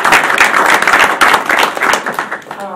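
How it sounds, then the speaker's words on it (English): Clapping at a board of education meeting: a small group applauds in uneven bursts close by, sharp hand claps rising and thinning out before fading near the end. "I'm clapping at that"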